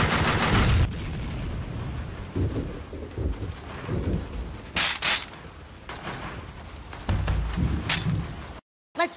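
Gunfire in Max Payne 2 crackles in irregular bursts and single cracks over a dense, noisy background, with sharp loud shots scattered across the stretch before a brief dropout near the end.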